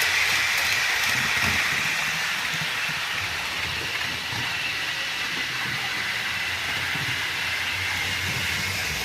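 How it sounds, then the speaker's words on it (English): A model TGV train runs on a layout, giving a steady dense whirring and rumbling roar that holds at the same loudness throughout, with no pauses and no voices. "the computer program wants to bring in the silver and blue TGV"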